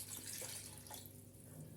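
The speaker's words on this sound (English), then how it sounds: "before we were rudely interrupted by Slayer, I was about to put the water in." Water poured into a pot for Greek stewed octopus pasta, a brief steady quiet splash and flow heard up close without talk.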